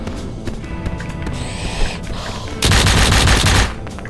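Automatic machine-gun fire in a video game's boss fight, a dense rattling burst of about a second that cuts in loudly over a busy backdrop of clanks and mechanical noise.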